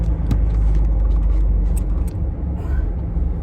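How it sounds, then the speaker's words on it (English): A truck's engine rumbles low and steady while creeping through stop-start traffic on a hill in narrow streets, with faint clicks and a brief hiss of air near the end. "I'm on a bit of a hill, sat in traffic, and I'm trying to bloody keep the truck moving"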